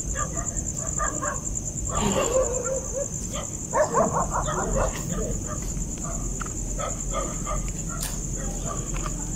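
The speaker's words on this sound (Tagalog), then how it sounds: "Ano yung mga aso mga idol." Several dogs bark in scattered, fairly distant bursts across an overgrown outdoor area at night, over a constant high insect-like whine and steady background hiss.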